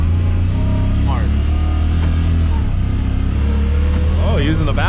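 A Honda Talon 4-seater side-by-side engine drones steadily near and loud in launch mode, rising in pitch through quick gear shifts as people speak over it.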